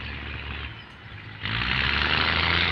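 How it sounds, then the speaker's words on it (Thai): A heavy diesel railcar engine drones steadily at a Thai railway station, then its roar rises abruptly and holds at a louder, rougher level. "มาแล้วครับผมเร่งเครื่องนะฮะ"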